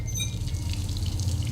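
Water runs steadily in the stealth video game Dishonored, a soft continuous rushing with a low background hum underneath, no voices.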